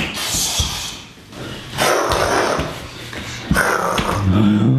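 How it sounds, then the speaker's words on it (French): A dog and a cat clash in a noisy scuffle. The dog growls and barks in several loud, close bursts, with rough snarling between them. "C'est un chien et un chat."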